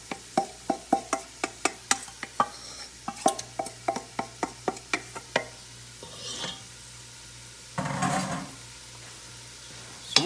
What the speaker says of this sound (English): So we're just going to saute these peppers and onions and garlic in this butter